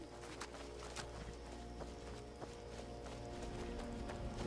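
Horse hooves running in the video game Skyrim, a faint, quick clip-clop of galloping hooves over a soft ambient background, steady throughout without talk.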